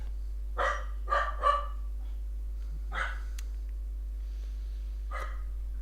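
Dogs bark in short bursts, first a quick run of three barks, then a single bark and another one later, over a steady low electrical hum in a quiet room.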